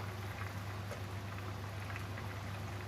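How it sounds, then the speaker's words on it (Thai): Coconut milk curry for a chicken and pumpkin dish bubbles in a pot, a soft, continuous simmering fizz with a low steady hum beneath and no voices. "หลังจากที่เราใส่กะทิลงไปแล้วนะคะแล้วกะทิเดือดสักพักหนึ่งแล้วนะคะ"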